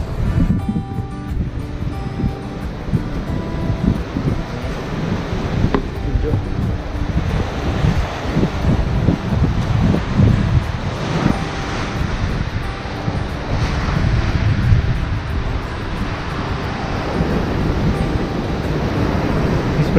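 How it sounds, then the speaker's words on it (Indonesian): Waves crash and wash continuously at Kedung Celeng beach in Malang, mixed with steady wind buffeting the microphone throughout. "Seperti ini gambaran lengkap pantai."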